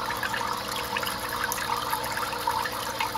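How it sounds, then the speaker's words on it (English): Water trickling into a greenhouse bucket from storage barrels above while a pump runs, a steady continuous watery wash with soft gurgling, close and moderately loud throughout with no speech. "the water coming in, as you see there, is coming from the storage barrels above. It generally trickles in like that while it's pumping"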